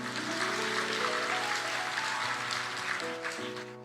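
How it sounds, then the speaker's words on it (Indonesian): A church congregation claps for God during a sermon, a dense, fairly soft wash of applause with a sustained tonal hum of music underneath. "kasih tepuk tangan buat Tuhan"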